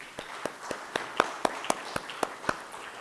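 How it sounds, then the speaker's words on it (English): A few slow, scattered claps ring out at a panel discussion on entrepreneurship, about a dozen sharp, evenly spaced hand claps at moderate volume with no talking over them. "Let's give them a warm round of applause"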